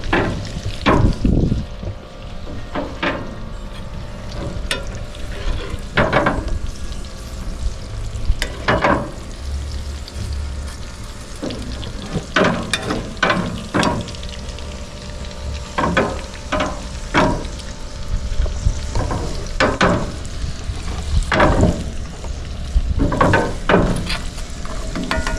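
Australian wagyu ribeye steak sizzling in butter over high heat, a steady crackling fry with repeated sharp spatters and pops throughout, close and fairly loud, no talking.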